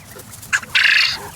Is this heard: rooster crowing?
yes